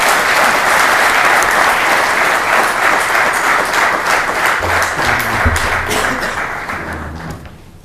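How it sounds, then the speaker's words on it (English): Sustained, dense clapping from a large audience welcoming a guest speaker at an Entrepreneurs Day event, loud and steady throughout, with some low thumps near the end as it gradually fades. "please welcome Shri P.S. Devdar ji with a great round of applause"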